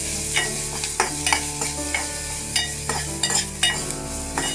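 Onions and green chilies frying in a non-nonstick pan, a steady sizzle broken by repeated sharp scraping stirs of a spoon against the metal, close and clear with no voices.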